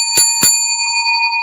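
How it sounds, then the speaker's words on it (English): A small bell, like a bicycle bell, rings twice in quick succession during a sports talk show about the Atlanta Falcons, its bright tone lingering after the strikes, with no talking. "Let's ring the bell for that."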